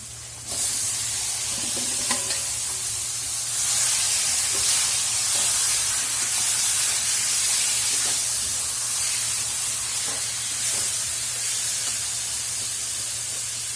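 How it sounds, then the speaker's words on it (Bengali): Giant river prawns hit hot spice paste in a pan for a Bengali malai curry, giving a loud, steady hiss and sizzle that holds throughout with faint stirring knocks and no speech. "মশলাটা কষে নিয়েছি ভালো করে এবার মাছটা দিয়ে দেবো মাছটা দিয়ে দু মিনিট কষে নেবো"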